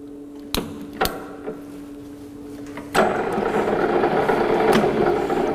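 A lathe with a drill bit in the chuck, set to a slow spindle speed around 115: a few sharp mechanical clunks as the gears are engaged, then a steady close whirring, rumbling run that continues to the end.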